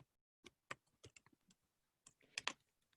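Keys on a malfunctioning computer keyboard are struck in a few quick, uneven bursts of clicks, close but quiet, with short gaps between them.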